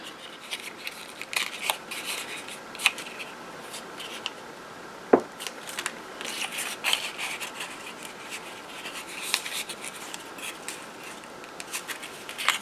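Paper pieces are folded and creased by hand to find their centers for a folded paper flower embellishment, giving soft, close rustles, scrapes and sharp crinkles scattered over several seconds, with no talking.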